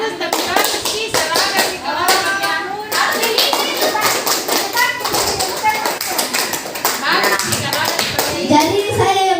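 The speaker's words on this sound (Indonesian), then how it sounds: "Tepuk" A group of children and adults clap their hands in a classroom in quick rhythmic bursts of sharp claps, several rounds close and loud, with voices chattering between the patterns.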